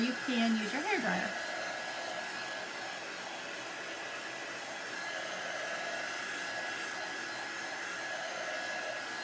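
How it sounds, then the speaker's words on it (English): Hair dryer blowing over chalk paste on a white chalkboard, a steady close whoosh running throughout with a short burst of talk at the very start. "or you can use your hair dryer."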